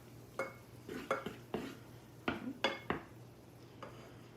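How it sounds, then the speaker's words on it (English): Flour being stirred into melted butter in a pan to make a roux: a spoon clinks and scrapes against the pan in a handful of separate strokes over a faint low hum, with no voices. "I'm going to melt that butter down, and then I'm going to stir in my flour"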